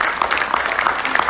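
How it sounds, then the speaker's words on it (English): Audience applause for World War II era veterans at a military appreciation event, a short burst of steady clapping throughout. "We can still give them a wonderful round of applause as well."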